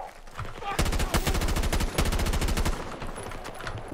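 Rapid automatic gunfire in Battlefield 2042 rattles out in loud, dense bursts with short pauses between them, then trails off into quieter game ambience.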